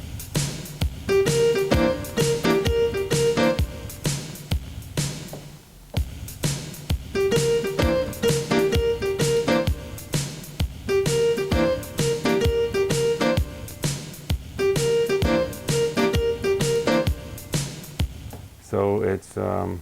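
Modern blues piano left-hand pattern, a repeating bass-and-chord figure cycling in steady phrases, played loud and close with no talking, ending on a brief different sound.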